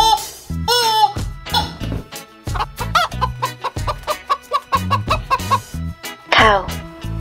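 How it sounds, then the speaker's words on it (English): A chicken clucks in short, choppy bursts set against bouncy background music, the fowl calls repeating in a quick, uneven rhythm close and fairly loud. "Chicken."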